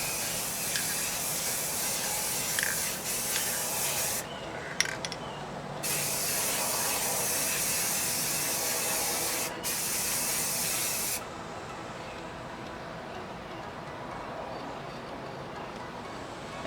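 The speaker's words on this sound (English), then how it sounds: "And then we'll spray it vertically." Waterproofing sealant aerosol sprayed onto product labels in steady hissing bursts, loud and close, with short pauses between passes and a fainter hiss after.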